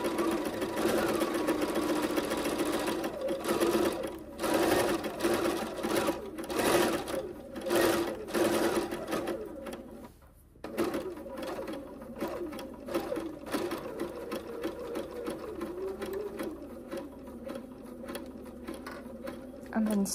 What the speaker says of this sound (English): you just sew straight down with a straight stitch